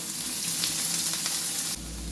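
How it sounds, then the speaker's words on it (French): Onions frying in oil in a pan, a steady loud bright sizzle close up throughout, with a small shift in tone near the end and no talk. "Donc dans mon poêle, je vais faire revenir mes oignons dans de l'huile."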